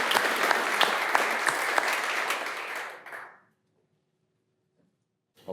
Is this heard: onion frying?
no